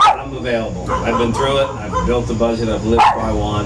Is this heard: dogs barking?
yes